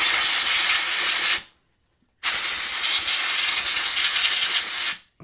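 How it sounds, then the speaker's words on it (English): Compressed air blows alcohol off the back of a circuit board from a 1990-1996 Corvette digital trip monitor, two loud steady hissing bursts of about one and a half and three seconds with a short silent gap between. "we'll use some compressed air to"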